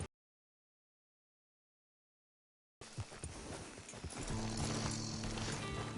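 Horse hooves clop in the Red Dead Redemption video game, steady footfalls beginning after a stretch of silence and continuing under a busy game soundscape.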